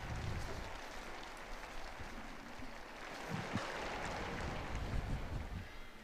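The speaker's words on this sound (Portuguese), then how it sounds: "abrem-se as janelas do apartamento pontifício e a multidão saúda o Santo Padre" Crowd in St. Peter's Square greeting Pope Francis at the Sunday Angelus as the papal apartment windows open, a distant, steady wash of applause and cheering, faint and broad.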